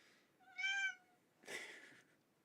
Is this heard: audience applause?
no